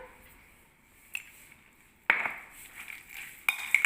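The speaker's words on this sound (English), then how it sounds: "Mix them up together so that all the carrot and the cabbage is They come together and everything gets a share of the salt and now the pepper." Carrot and cabbage being tossed with salt and pepper in a bowl for a shawarma wrap filling, giving quiet scraping and then two sharp clattering bursts of utensil against dish, with no talk.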